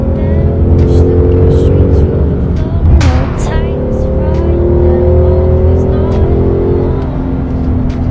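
A Ford Mustang GT with a 5.0-litre V8 drones steadily and loudly, its engine tone rising and falling as it revs, with a brief sharper burst midway.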